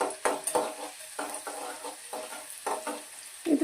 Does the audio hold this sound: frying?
yes